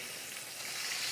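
Turkey chops fry in a pan, a steady close sizzle and crackle filling the whole stretch with no pauses.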